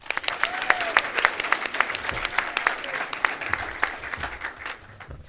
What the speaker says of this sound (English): Let's show our appreciation for our final session sponsor with a final round of applause.